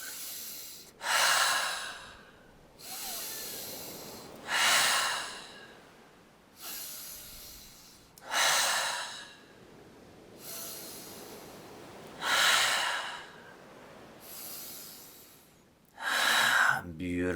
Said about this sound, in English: In through the nose, out of the mouth, ha sound out on the exhale.